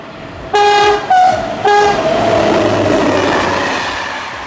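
Heard from inside the cab, an SNCF 67400 diesel locomotive runs at over 125 km/h on level track. Three loud horn blasts are followed by a steady rumble of running noise that slowly fades.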